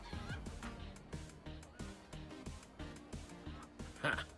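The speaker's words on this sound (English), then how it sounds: "After I watch one more chicken get owned." Chickens cluck in the video game Minecraft Story Mode, a string of short, repeated clucks in an uneven rhythm, soft and close, with a sharper squawk near the end.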